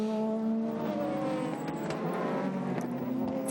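Ferrari F360 race car in a Super GT race at SUGO, engine droning steadily and fairly loud as it runs off the track, with crowd and track noise around it.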